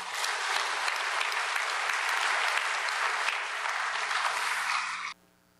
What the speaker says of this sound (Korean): 박수로 목사님 환영하겠습니다.